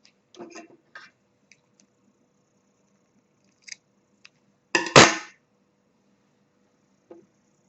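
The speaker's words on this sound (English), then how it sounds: "So if you still have your loose yarn end, you can cut it as well." A single crisp snip of scissors cuts a loose yarn end on crochet work, close and brief amid a few faint handling clicks in a quiet room.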